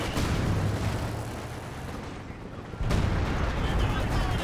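Howitzer artillery fire in the World War II strategy game Company of Heroes 2 lands on a building. Dense, continuous booming and rumble fill the whole stretch, with a fresh heavy impact swelling in near the end.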